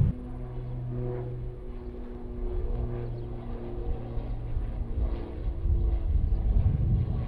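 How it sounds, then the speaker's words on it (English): An airplane passes overhead on a hot day, a low steady drone with some wind noise, rising a little toward the end. "as soon as I start recording, I've got an airplane"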